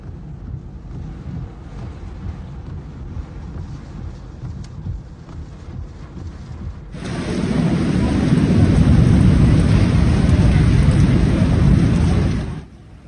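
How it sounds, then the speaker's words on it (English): Heavy storm rain with wind in the streets of Makkah: a steady dense wash of noise under a low rumble, which swells sharply to a loud, roaring downpour partway through and then cuts off near the end. "The video clips also recorded rain accompanied by wind and lightning, torrential water pouring down the street"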